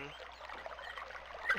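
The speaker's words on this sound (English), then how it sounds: "I still hear water." Faint, steady trickling of water through pipes in the video game Myst runs throughout, with a brief louder splash near the end.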